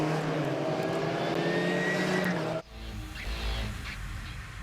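Clubmans race cars roll off on their formation lap at Snetterton in 2021, a loud, dense engine roar that cuts abruptly partway through into a quieter, rumbling continuation.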